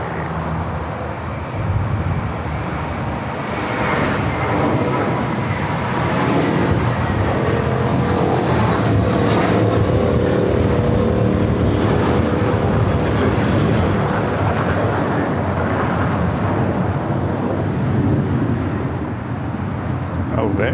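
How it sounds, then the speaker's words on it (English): A JetBlue Airbus A321 on its takeoff roll down runway 25 right at LAX, a broad, steady jet roar that swells slightly and holds throughout, with people talking faintly over it. "JetBlue A321 rolling down at 25 right."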